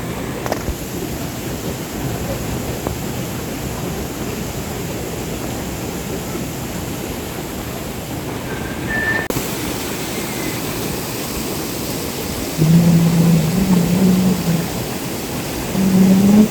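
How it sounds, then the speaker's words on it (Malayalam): Erachilpara waterfall pours in a steady, broadband roar of falling water, constant throughout with no voices, with a faint low rumble swelling in near the end. "ഇതാട്ടെ ഞാൻ പറഞ്ഞ നമ്മുടെ എറച്ചിൽപ്പാറ വെള്ളച്ചാട്ടം"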